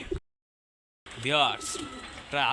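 Pigeons at a farm coo in a low, throaty, warbling way, close and clear, with a brief pause of silence before the cooing resumes in repeated phrases.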